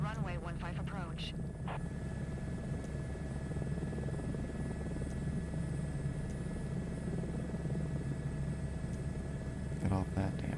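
Helicopter in a flight simulator game, a steady loud rotor and engine drone filling the whole stretch while radio chatter plays over it at the start and end.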